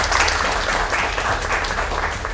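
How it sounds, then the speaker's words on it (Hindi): Loud, dense applause from a crowd, a steady wash of many hands clapping at once without any speech. "सबसे पहले तो जोरदार तालियों से एक बार फिर से सुहानी का स्वागत करें।"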